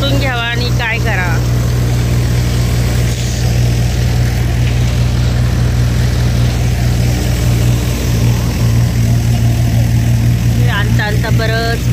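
Farm tractor engine idling and running steadily at night during a soybean threshing job, a loud continuous low drone throughout, with a few brief voices over it near the start and end.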